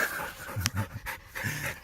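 Dog panting on a creek-side walk, quick rhythmic breaths in short bursts, close and fairly loud, with low rustling underneath.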